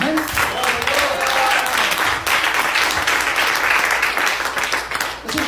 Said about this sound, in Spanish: ¿Cuánto le puede dar un aplauso a eso?